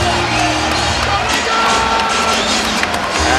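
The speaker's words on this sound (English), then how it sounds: "that gets the crowd going" A basketball arena crowd cheers and roars steadily throughout a Magic at Lakers NBA game, loud and dense, with whoops rising from the sustained din.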